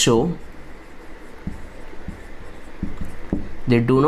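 A pen scratches across a classroom board in a series of short strokes during a chemistry lesson, with a teacher's voice heard briefly at the start and end.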